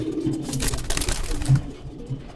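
Racing homing pigeons kept for sale, including hens, coo in low, soft, steady murmurs close by, with no voices.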